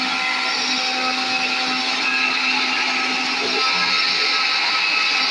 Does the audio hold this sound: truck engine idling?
no